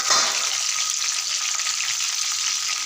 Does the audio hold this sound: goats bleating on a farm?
no